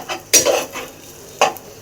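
Biryani being reheated in a pan on a home stove, with two sharp bursts of stirring and scraping against the metal and a soft sizzle carrying between them. Close and fairly quiet, with no talking.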